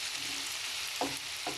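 Anchovies (hamsi) frying lightly in a pan just after being flipped, a steady close sizzle with two brief scraping stirs near the end.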